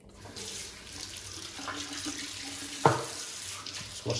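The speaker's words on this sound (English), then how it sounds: "Let's wash the hands here" Water runs from a bathroom sink tap for hand washing before a shave, a steady close hiss and splash with a few louder knocks and splashes partway through.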